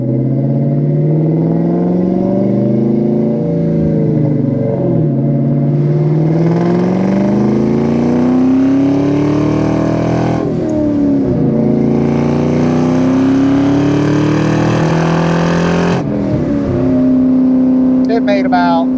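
A boosted 1999 Ford SVT Cobra pulls hard on the road, its engine note climbing through rising revs with shifts between gears, loud and close, with someone talking over it.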